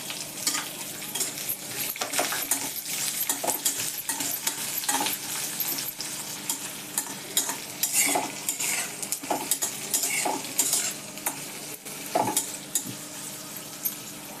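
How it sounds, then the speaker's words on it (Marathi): Onion and coconut roast together in a pan for an egg curry, steadily sizzling under continuous scraping and clinking of a spatula against the metal, close and busy throughout with no voices. "कांदा आणि खोबरं एकदा एकत्रच भाजून घेते."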